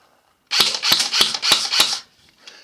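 An airsoft gun with a Nuprol cut-off lever fires five close, loud shots in an even rhythm as a magazine is emptied, followed by a couple of faint clicks.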